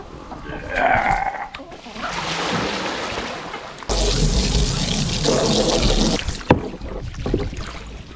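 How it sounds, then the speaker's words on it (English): Water sloshes and pours loudly, dumped out then splashed and rinsed in a steady rush, with a brief clunk near the end. "I'm gonna go ahead and dump this out and rinse it out and freshen it up."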